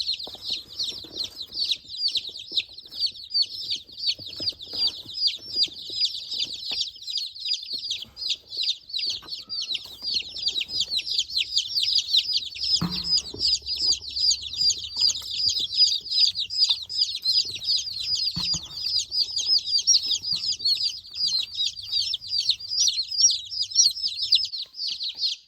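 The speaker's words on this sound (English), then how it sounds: "we've got Onyx right here who's very curious about these new chickens" Young meat chickens in a brooder: a dense, continuous chorus of high, rapid peeps and chirps, close and lively throughout, with faint low thumps now and then.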